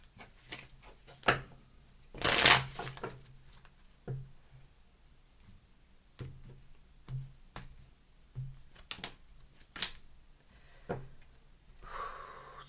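Soft papery rustles and light taps of tarot cards being shuffled close by, irregular and quiet, with one louder brushing burst near the start.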